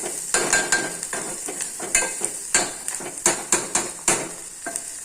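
Onion sautéing in oil in a pan over a low gas flame, a steady sizzle broken by repeated scraping stirs at an uneven rhythm, close and moderately loud with no talking.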